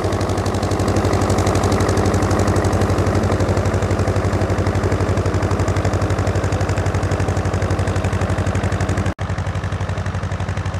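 A potato planter runs steadily close by, with a rapid mechanical clatter over a deep engine drone that continues throughout.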